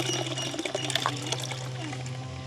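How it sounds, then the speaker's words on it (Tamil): Water poured off soaked urad dal that has been squeezed by hand in a village kitchen, a steady close splashing trickle running continuously, with no talk. "நாங்கள் இப்படி கசக்கி போட்டு இப்படி நாங்கள் கொஞ்சம் கொஞ்சமாக இப்படி வடித்து எடுத்தாலே"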